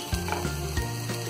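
Cabbage frying in a pan for vegetable Schezwan fried rice, a steady faint sizzle under a low hum, with a few soft stirring knocks, no talking.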